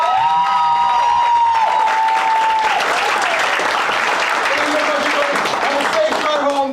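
Audience at a memorial improv comedy show breaks into sustained, loud applause with scattered cheers and whistles, a voice briefly audible over the clapping throughout.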